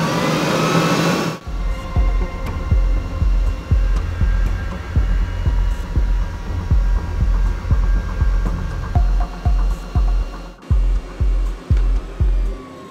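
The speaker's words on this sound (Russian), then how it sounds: "Включаем привод и будем управлять башней." The turret drive of a T-72B tank runs with a steady low hum, close and loud after it starts with a burst. A rhythmic throbbing pulses through it, with no talk over it.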